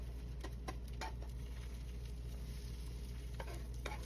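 Eggs for an omelette cook in a small, overfilled frying pan over low to medium heat, giving a steady soft sizzle with a few faint scraping taps, alone and close.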